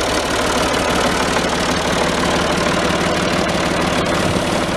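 A Ford 2600 tractor engine idles close by, a loud, constant, knocking diesel rumble that holds steady throughout.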